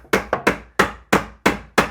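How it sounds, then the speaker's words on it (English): Hammer turned sideways striking a wooden box face to fit it tight: seven sharp, loud wooden knocks in an uneven rhythm, each ringing briefly before the next. "I'm turning my hammer sideways on purpose,"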